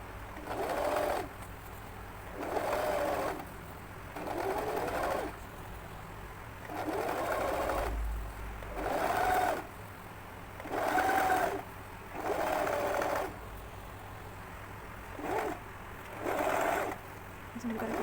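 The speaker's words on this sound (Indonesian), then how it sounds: "Jadi ini kan kita jahit semuanya, ini pelan-pelan." A sewing machine stitches a child's hijab in repeated bursts of whirring, each run lasting about a second with short pauses between, close and steady.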